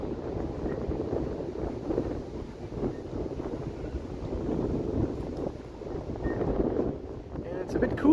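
Steady outdoor wind buffeting the microphone on a cool, breezy day in Toronto, a constant low rumble and hiss throughout with no clear pauses.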